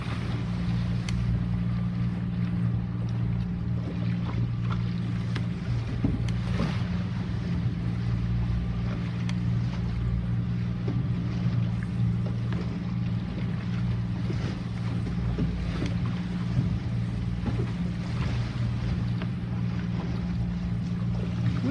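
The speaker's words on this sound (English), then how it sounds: "We're sailing off the coast of Florida now," A sailboat heading along the Florida coast in big swells fills the cabin with a continuous low rumble of water against the hull and wind, with a steady droning texture and no talking.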